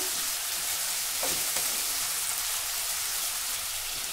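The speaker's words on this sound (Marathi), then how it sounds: "आता हा बटाटा थोडा अर्धवट मऊ होईपर्यंत आपण परतून घेऊ" Diced potato sautéing in a pan for a fasting-day snack, a steady soft sizzle and crackle filling the whole stretch at an even, moderate level with no voices.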